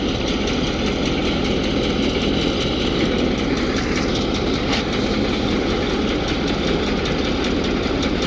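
A farm tractor engine runs steadily at a rural home, a continuous low, even rumble close by with no speech over it.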